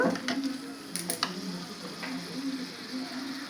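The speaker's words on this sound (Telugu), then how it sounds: "నేను ఇందులోనే ఇప్పుడు టమాటా ముక్కలు వేస్తున్నాను" Tomato pieces drop into a hot pan for a tamarind-leaf chicken curry and set off a steady sizzle. A few clatters and taps sound early as the pieces land and are moved about, and the frying hiss continues with no talk.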